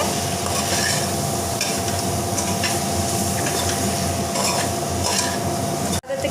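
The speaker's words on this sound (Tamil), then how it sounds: "இது நல்லா கலந்து விட்டுறலாங்க" A spoon scrapes and stirs sambar powder through aubergine and lentils in a pressure cooker, a steady sizzling hiss with repeated stirring scrapes, close and continuous, ending in a brief clatter.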